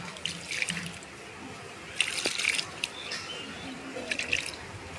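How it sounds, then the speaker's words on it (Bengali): Water poured from a container onto a chilli plant, with intermittent splashing and trickling in short bursts, some drips standing out, fairly close and moderately quiet. "আমি এখন এই জলটা দিয়ে দিচ্ছি, দেখা যাক গাছটা বাঁচে কিনা।"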